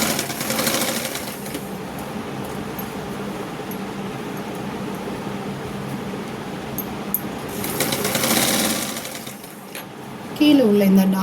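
A domestic sewing machine stitches a strip onto a blouse lining, a steady mechanical whir running close and continuous, briefly pausing and resuming, with someone speaking at times.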